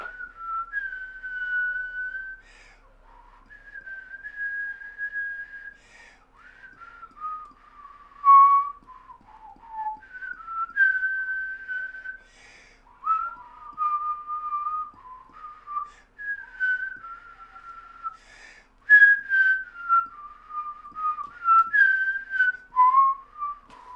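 A person whistles a wandering, uneven melody alone and close by, with short phrases broken by pauses and occasional breathy breaks.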